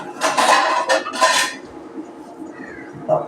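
Plates and cutlery clatter as dishes are handled at home, two close, bright bursts of clinking in the first second and a half, then a quieter lull and one last small clink.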